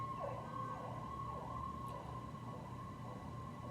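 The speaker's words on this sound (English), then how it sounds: "I don't know why these sirens are going off when they're going off." Emergency sirens wail faintly in the distance with a repeating rise-and-fall tone over a low rumble of traffic.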